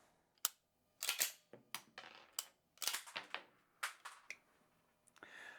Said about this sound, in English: Then release the trigger and you should hear and feel an audible click.